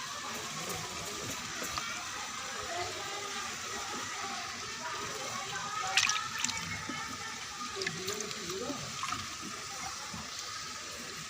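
Drumstick leaves washed in a pot of water, a continuous splashing and swishing with trickling sounds, moderately close, a few louder sloshes midway.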